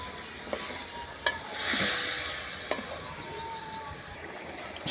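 Chicken for a chicken pulao browning in a pan, a steady soft sizzle with a few sharp stirring clacks and a brief louder burst of frying, close and without talk.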